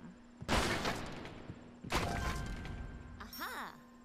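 A live bomb blows up an old building in Scribblenauts Unlimited: two loud broadband blasts roughly a second and a half apart, each trailing off into rumble, followed by a short warbling chime, under a steady game hum.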